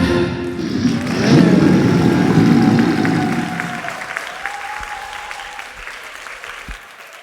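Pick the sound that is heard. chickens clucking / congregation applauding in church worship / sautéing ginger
congregation applauding in church worship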